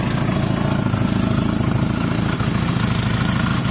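Bobber motorcycle engine being worked on during a wiring harness rebuild, running with a steady, close, loud low-pitched idle throb and no talk.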